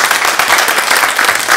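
Studio audience applauding on a Turkish game show, a dense, steady burst of clapping filling the room with no voices over it.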